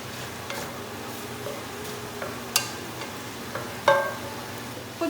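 Eggplant stir-frying in a pan gives a steady low sizzle, broken by a few faint clinks and scrapes of a utensil against the pan, with no voices.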